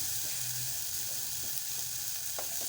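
Onion frying in oil in a pan for potato patties, a continuous close sizzle with a few faint stirring scrapes, no talk.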